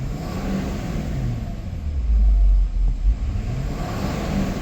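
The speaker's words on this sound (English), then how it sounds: "But let me rev it up for you." A 2015 Ford F-550 XL flatbed ramp truck engine idles with a deep rumble, then revs up twice in low, throaty surges before settling back to idle; no talking.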